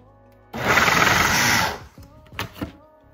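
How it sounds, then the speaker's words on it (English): A food processor grinds chickpeas, garlic, jalapeno and parsley for homemade falafel: a loud steady whirring roar runs about a second and a half, then cuts off, followed by a few short clunks and knocks. "I am just going to grind this up"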